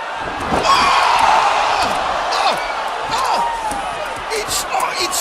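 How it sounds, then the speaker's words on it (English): Wrestler Kenny Omega slammed onto a board full of mouse traps at the AEW Full Gear 2019 pro wrestling event: a sharp impact early on, with loud arena crowd noise and cheering continuing throughout. "Kenny Omega slammed onto the board full of mouse traps."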